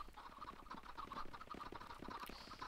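Chickens cluck and squawk inside a Minecraft server chicken farm, a faint, busy patter of short overlapping calls repeating rapidly throughout.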